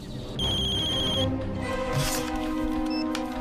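A telephone rings with a steady electronic ringtone in an indoor scene, a repeating tone pattern heard alone with no talking.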